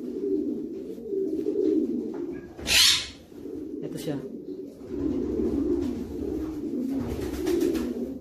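A breeder pigeon hen coos in soft, low repeated calls close by, with a brief rustle and someone speaking over the birds.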